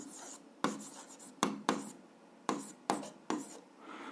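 Writing out an algebra solution for a seventh-grade exercise: about six separate bursts of scratchy writing strokes, close and moderately loud, with short quiet gaps between them and no talking.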